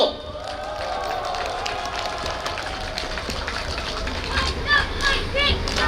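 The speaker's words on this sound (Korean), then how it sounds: "다들 떨지 말라고, 힘내라고 박수 한번 부탁드립니다." Crowd applause and some cheering at an outdoor presidential campaign launch rally in Suncheon, broad and steady clapping with a voice audible over it and noisy rally ambience underneath.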